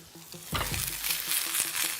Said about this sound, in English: Shallots and garlic in. Give that a really nice little toss.